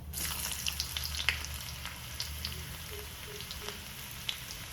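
Small onions hit hot coconut oil already popping with mustard seeds, giving a steady close sizzle with scattered crackles and sharp pops throughout.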